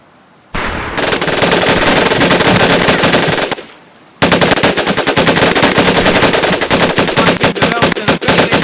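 A Tommy gun fires automatically in the Medal of Honor Pacific Assault video game, two loud, sustained bursts of rapid shots, close and dense, separated by a brief pause.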